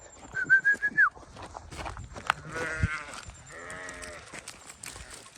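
Goats bleating at night on pasture, several close, wavering calls in a row, some short and pulsing and others drawn out and trembling, with rustling movement between them.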